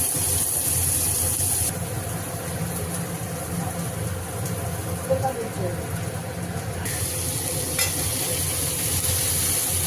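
Chopped onion frying in oil in a pan with garlic, dried red chillies and five-spice seeds, a steady close sizzle and hiss with faint stirring, under a low background hum.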